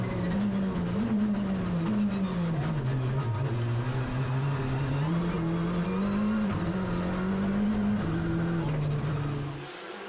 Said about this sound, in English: Maxime Potti, shedding a rear light cluster here, but that's not enough to slow down the Fabia Res Rally.